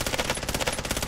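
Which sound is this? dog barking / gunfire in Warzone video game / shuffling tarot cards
gunfire in Warzone video game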